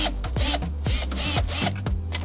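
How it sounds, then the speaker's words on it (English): A screwdriver loosens a screw on hot tub trim, producing a quick series of repeated ratcheting clicks and squeaky metallic turns, close and fairly loud, with no talk. "I might loosen up this top screw just a little bit more"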